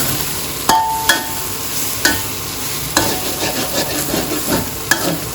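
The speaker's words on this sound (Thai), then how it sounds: "ผัดทุกอย่างให้เข้ากัน" Fermented pork sausage with onion and glass noodles is stir-fried in a pan, with a steady loud sizzle under repeated sharp scraping strokes of a spatula.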